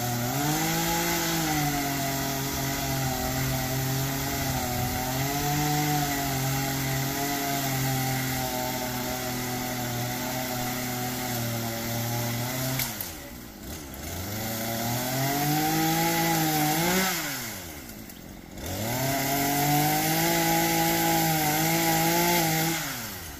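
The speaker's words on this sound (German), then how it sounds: "Da ist auch so eine Kettensäge mit so einem ganz kurzen Schwert." A short-bar chainsaw cutting small trees runs loud and close, its engine whining steadily, then dipping twice as the revs drop before picking back up.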